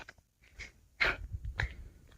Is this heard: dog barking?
yes